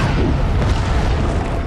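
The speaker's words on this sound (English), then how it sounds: "this explosion truly deserved to be called art." A huge explosion blows up a wooden house, a loud, sustained deep boom with rumbling low end filling the whole moment, no voices.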